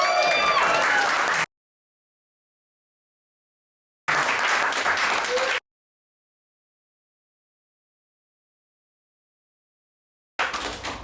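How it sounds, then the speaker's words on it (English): Applause from an audience at a comedy grand final comes in three separate bursts divided by silent gaps, each burst a dense crowd clapping with some cheering mixed in. "Big round of applause."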